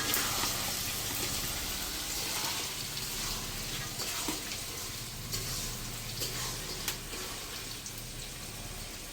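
Chicken meat fries in its own released oil in a pot, making a steady, quiet sizzle with occasional faint stirring clicks and scrapes and no talking.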